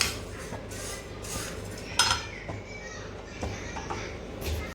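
Roasted brown sesame seeds scraped from a pan onto a plate, with a few faint clinks and scrapes of utensil on metal, close and soft, while a person speaks in the background.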